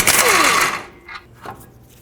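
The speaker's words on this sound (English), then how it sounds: "With your 21mm socket, remove the 2 large bolts that hold this caliper and bracket assembly onto the axle tube." A 21mm socket on a ratchet works loose the large caliper bracket bolts on the rear axle of a 2008-2010 Ford F-250, giving a loud metallic burst of ratcheting for under a second, then fainter scattered clicks and taps.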